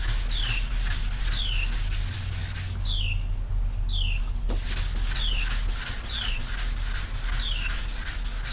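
Wet sanding car primer by hand with a sanding block after bodywork, a steady close rubbing scrape running continuously, with repeated chirping birdsong in the background and a brief pause midway.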